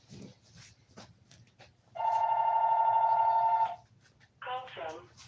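A phone ringtone sounds once, a steady electronic ring lasting under two seconds, followed by a brief dog-like bark or yelp, with quiet background noise and speech around it.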